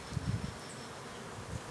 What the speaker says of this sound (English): Right now, these bees are getting a little feisty.